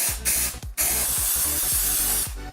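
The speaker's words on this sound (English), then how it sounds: "Before putting plasticine in the mold, I spray the mold with a separator." Separator spray hisses from a can onto a 3D-printed mold in several close, steady bursts with brief gaps, nearly filling the short stretch alone.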